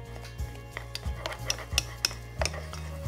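A spoon stirring choux pastry dough as flour is worked in a pan, with repeated scraping knocks and clinks against the metal coming at an uneven rhythm, close and fairly loud, no voices.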